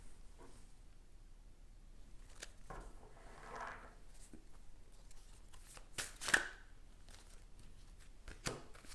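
Tarot cards being shuffled and drawn during a reading, giving soft papery riffles and slides with a few sharper flicks near the middle, quiet and close.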